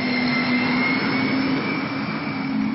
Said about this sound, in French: Ce tracteur, par exemple, est équipé de 4 turbines d'hélicoptère.